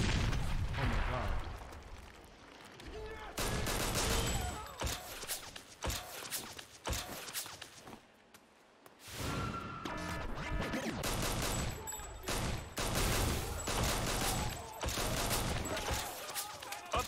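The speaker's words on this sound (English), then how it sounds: "I'm shooting this bitch." Dense, continuous gunfire and explosions from the video game 50 Cent: Blood on the Sand roar loudly almost nonstop. There is one brief lull midway before the barrage resumes, and voices can be heard mixed into the battle noise.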